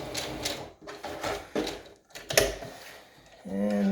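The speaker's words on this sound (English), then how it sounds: "so give it a quick back stitch" A sewing machine runs in short bursts, stopping and starting, while back stitching at the end of a top-stitched outer edge on a homemade fabric mask. The mechanical whir is close and moderately loud, with clicks between the runs.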